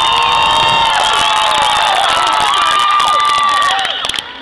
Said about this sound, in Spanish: damas y caballeros, el aplauso fuerte y el grito para el Chavo de Oaxaca, México.